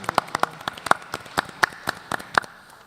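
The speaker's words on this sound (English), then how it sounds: "Can we also give Kendria Mason another round of applause?" An audience at a K-12 education symposium claps for the event's moderator. The claps are sparse, crisp and separate, a few hands only, moderately quiet, rising and fading over about three seconds.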